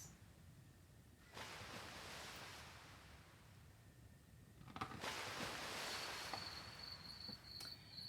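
Stormy ocean waves pound against cliffs in swelling, hissing surges, with one wave building and then a second, louder crash breaking over a faint, steady background.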